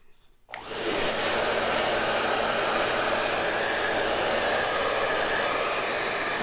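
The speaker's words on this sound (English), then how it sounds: "put my blow dryer on it for just a minute or two" A blow dryer on its cool setting, aimed at a Christmas tree craft piece, switches on after a brief quiet moment and then runs as a steady, loud, broadband whoosh without letup.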